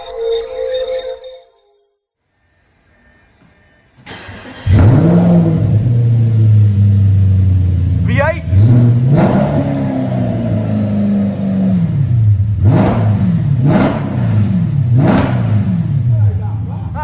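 An Audi RS5 V8 fitted with a Scorpion exhaust and deletes starts up with a loud bark, then settles into a deep idle broken by several sharp revs that rise and fall, close by; a voice is heard briefly at the start.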